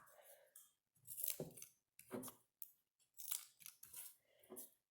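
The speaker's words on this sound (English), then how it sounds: "So I'm gonna cut them into rectangles and then maybe cut those in half." Scissors cut through cardboard into rectangles for a craft self-portrait, a series of close, crisp snipping and crunching strokes in irregular bursts with short pauses between.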